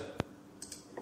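A computer mouse gives one sharp click, followed by a few fainter clicks and taps, brief and close.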